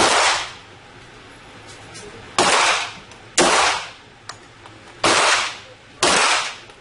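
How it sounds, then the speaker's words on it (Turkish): Five sharp gunshots fired at a shooting target ring out at irregular intervals roughly a second apart, each one loud and close with a quick decaying tail, and no talking over them. "4. atış. Bu da son atış."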